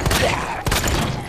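Gunfire in Resident Evil 2, a loud rapid cluster of close shots with thudding impacts, one sharp report standing out midway.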